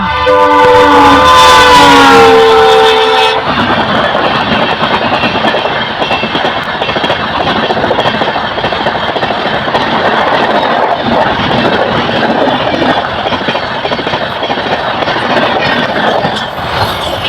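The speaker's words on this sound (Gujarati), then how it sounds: "જો રેલગાડી આવી ગઈ છે" A passenger train rolls past close by, opening with a loud sustained horn blast, then a continuous heavy rumble and rhythmic clatter of wheels on rails that stays loud to the end.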